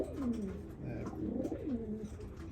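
Racing and Birmingham roller pigeons coo together in a loft, a steady run of low, throaty, rolling coos close by and moderately loud, with no talking.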